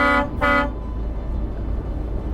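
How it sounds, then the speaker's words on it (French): A truck horn honks in two short, loud blasts close by, then only a low engine rumble continues underneath. "Je peux klaxonner, hein, y a personne."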